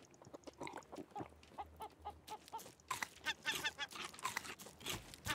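Bird squawking in the survival game Raft, a run of repeated harsh calls, loud and close, sounding fowl-like, with denser overlapping squawks in the second half and no talk.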